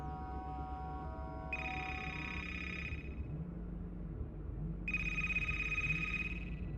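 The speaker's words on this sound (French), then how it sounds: "l'ambiance est coupée radicalement par le bruit d'une sonnerie de téléphone" Telephone ringing in bursts of bright electronic tones, two clear ring cycles over a low background rumble, fairly quiet and close with no talking.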